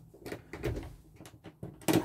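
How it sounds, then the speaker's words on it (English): Cupboard doors in a Coachman or Swift caravan being opened, a handful of soft knocks and clunks spaced irregularly over two seconds, close by and fairly quiet, the last thud the sharpest. "just open these doors properly."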